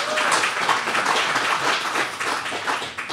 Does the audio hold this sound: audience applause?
yes